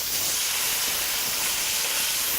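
Marinated pork sizzles in a sauté pan, a steady bright hiss with fine crackle, close and even throughout, with no talk over it.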